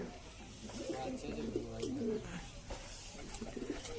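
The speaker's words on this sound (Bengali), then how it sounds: "দেখে নিন, এই হচ্ছে ঘুঘু পাখি" A wild dove and a pigeon coo softly outdoors in a string of rolling, low notes, fairly close but quiet, with faint background noise throughout.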